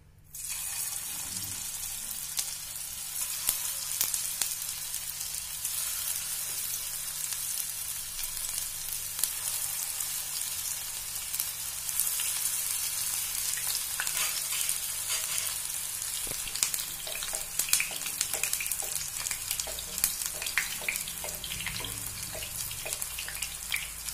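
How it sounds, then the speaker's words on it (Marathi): Carrot kebabs shallow frying in hot oil give a continuous, even hiss that starts abruptly and holds steady throughout, with faint crackles rising toward the end; no one speaks. "आता आपण शॅलो फ्राय करून घेऊया आपले कबाब."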